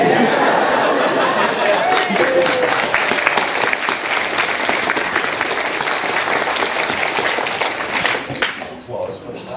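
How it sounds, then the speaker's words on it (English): Convention panel audience applauds steadily for about eight seconds, a dense wash of clapping with some chatter mixed in before it thins out at the end. "Applause for that."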